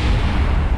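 A single loud, booming test shot from a gun in Kerbal Space Program, a short, heavy blast that fills the moment at close range.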